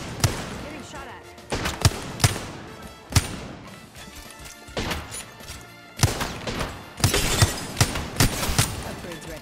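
Gunfire in a first-person shooter video game, with bursts of shots and sharp impacts coming in clusters, partly under the players' chatter.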